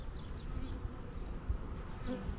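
Honeybees hum and buzz around their queen on an open frame during a hive inspection, a faint, steady insect drone with a few wings passing close.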